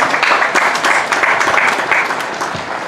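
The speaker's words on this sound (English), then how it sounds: "Let's give all the Rangers a nice round of applause." A crowd breaks into loud, sustained applause, dense clapping that fades slightly toward the end.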